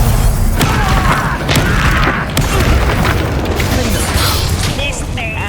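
A Bombarda spell blast in the Hogwarts Legacy video game, a loud, deep booming explosion with mechanical clatter and rumbling debris, set among sustained combat noise with voices talking.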